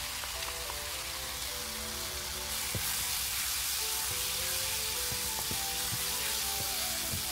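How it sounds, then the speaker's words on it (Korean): Seasoned meat and vegetables stir-frying in a pan for mapo tofu, a steady broadband sizzle with occasional light clicks of stirring, growing slightly louder partway through, no voices. "야채가 다 익을 때까지 볶아주세요."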